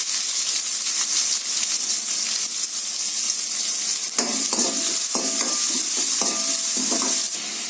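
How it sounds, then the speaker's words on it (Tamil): Sliced onions sauté in oil with fennel seeds and curry leaves in a pan, hissing steadily up close, then a series of spatula scrapes and stirs follows in the latter half, with no voices. "நல்லா வதங்கட்டும் வெங்காயம்"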